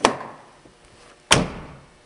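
Two solid thumps about a second apart, each a close, heavy BMW car door shutting firmly with a short decay.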